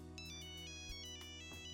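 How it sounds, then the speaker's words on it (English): A phone ringtone plays nearby, a steady, bright, melodic electronic tone sounding continuously throughout with no voices. "A ringtone could be heard nearby."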